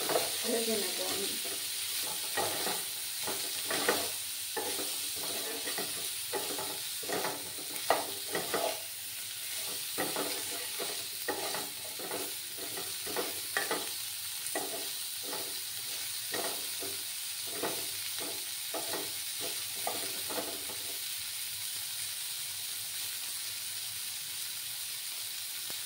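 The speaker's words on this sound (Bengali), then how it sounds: "সামান্য একটু হলুদ গুঁড়ো দিয়ে দিলাম, দিয়ে ফুলকপিগুলোকে একটু ভেজে নেব আমি।" Cauliflower pieces with a little turmeric fry in a pan over low heat, giving a steady close sizzle and hiss with frequent scraping stir clicks throughout.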